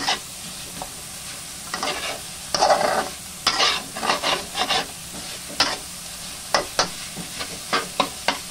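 Vegetables are stirred and tossed in a frying pan, with a steady sizzle beneath irregular scraping strokes and clusters of clattering bursts, close and fairly loud, with no talk.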